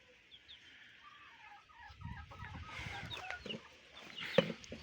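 Chickens and young chicks cluck and peep in a farmyard coop, soft chirps at first, then a busier, louder burst of clucking with one sharp call near the end, no talking.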